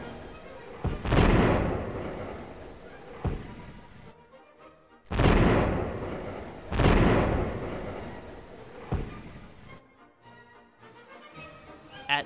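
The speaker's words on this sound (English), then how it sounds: "British ships started firing their cannons into the hill and fortification." Heavy cannon blasts from British ships firing at the hill fortifications in the Battle of Bunker Hill boom one after another, each loud report rolling out into a long rumbling decay.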